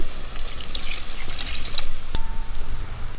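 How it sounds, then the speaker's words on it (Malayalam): Water is added to a frying ground-coconut chicken curry paste in a pan, giving a bubbling, splashing hiss over steady sizzling, with a single sharp metallic tap partway through. "വെള്ളം ചേർക്കുക."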